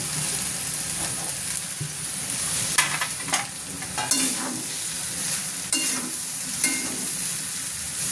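Poha tipped into a pan of frying potatoes, peas and peanuts and stirred: a steady sizzle with repeated scraping strokes of a spoon, close and moderately loud, with no talk.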